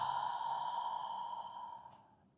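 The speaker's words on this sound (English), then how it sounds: "you're breathing out through your mouth with a ha sound" An exhaled ha breath pushed out through an open mouth during a grounding meditation: a single soft, airy breath close to the listener, lasting about two seconds and fading at the end.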